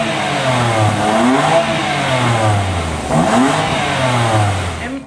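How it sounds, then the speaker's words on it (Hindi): A BMW M3 engine on its stock exhaust revs hard several times, a loud, close growl that climbs and falls in repeated sweeps before settling back, with no talk over it. "M3 की जो आवाज है ना, वो स्टॉक एग्जॉस्ट में इतनी खतरनाक आती है"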